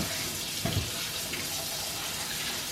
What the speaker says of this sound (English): let's wash and cut all of my produce for snacking